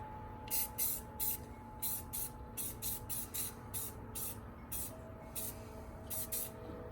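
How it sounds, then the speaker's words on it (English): Short bursts of clear coat hiss from a spray can onto the bubble windows of an RC Sky Crane model helicopter, about a dozen quick irregular spurts over a faint steady background hum, with no talking. "So I'm going to show you how I sprayed it."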